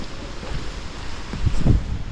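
Wind blows outdoors around a nipa hut, a steady breathy rush buffeting the microphone with a couple of low rumbling gusts toward the end.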